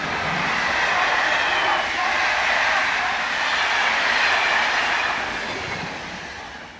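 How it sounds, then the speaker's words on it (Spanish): A high-speed train rushes past, a loud continuous roar that holds steady and then begins to fade as it moves away, with no voices over it. "el quinto un tren de alta velocidad pasando"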